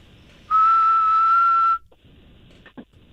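A man whistles a melody in one loud, clear, sustained tone lasting over a second, heard alone, then a brief quiet stretch with faint clicks.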